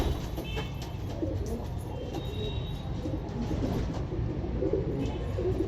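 A large pigeon coos softly and repeatedly, close by, over a constant low rumbling background.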